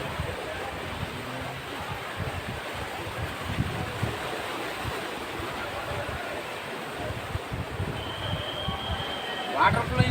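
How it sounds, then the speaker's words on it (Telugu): The Ganges at Varanasi flows fast and high, a broad, steady rushing roar of water heard close and continuous throughout, with no pause or break in the noise. "వాటర్ ఫ్లోయింగ్ మాత్రం చాలా ఎక్కువ ఉంది."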